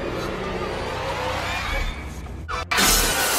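A glass shower enclosure shatters in a film scene: a rising, noisy bed ends in one sudden sharp crash, followed by a bright, hissing spray of breaking glass.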